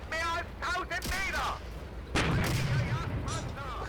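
A Panther tank cannon fires at T-34s in the video game Steel Fury, one sharp heavy blast midway with a rumbling tail, preceded by someone talking.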